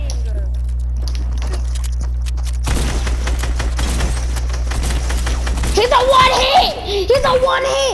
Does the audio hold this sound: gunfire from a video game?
yes